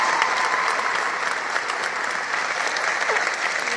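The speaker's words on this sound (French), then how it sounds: "les gens ils vont se mettre à applaudir" An audience at a live comedy sketch show applauds steadily, a dense, even wash of many hands clapping that stays loud and fills the whole stretch without pause.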